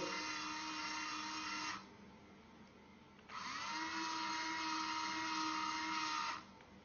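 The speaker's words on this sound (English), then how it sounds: "So you can see the movement of the motor from here." A small gripper motor on a robotic arm whirs in two bursts of a few seconds each, with a quieter pause between them, a thin high buzzing close by and faint, with no talk.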